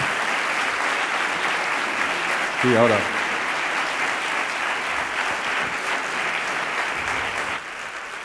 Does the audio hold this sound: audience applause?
yes